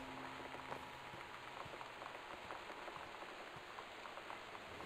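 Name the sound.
torrential rain in video game Gone Home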